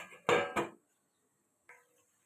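A metal lid set onto a cooking pot of mixed vegetables and fish head with turmeric and chilli, two quick close clanks followed by silence, then a faint softer clink.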